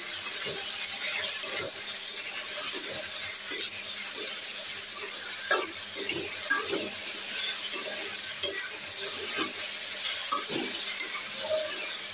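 Okra is stirred in a pan with salt and turmeric, a steady frying sizzle under repeated scraping and clacking utensil strokes, close and fairly even throughout with no talking.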